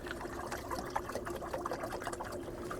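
Water poured into a farm animal's water bowl makes a steady, continuous splashing pour, close and alone with no talk.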